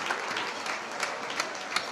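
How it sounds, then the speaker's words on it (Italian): An audience claps steadily in a room at Bigio's 80th birthday party, a thick, even wash of applause with a few sharper claps standing out, and no speech over it. "Un applauso ancora per Bigio"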